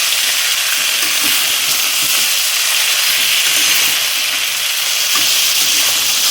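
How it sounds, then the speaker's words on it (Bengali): Mutton curry frying in a pan while being stirred, a loud, close, continuous sizzle and hiss with faint scraping of the spoon, steady throughout and without talking. "তো ভালো মতো একটু নেড়ে নিই"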